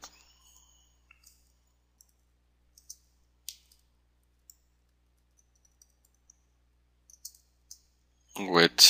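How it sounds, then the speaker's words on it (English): Computer mouse clicking in a quiet room during sprinkler system design work, sparse small sharp clicks, some in quick pairs, with a voice starting to speak at the very end. "Or I could just double click and rename it."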